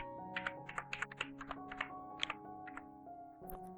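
Typing on a computer keyboard while entering a website address: a quick run of light key clicks, close and fairly quiet, with brief pauses between bursts.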